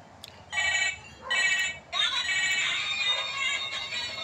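A cellphone rings with a repeating electronic ringtone: short bursts separated by brief pauses, then a longer continuous melody, heard up close over faint background noise.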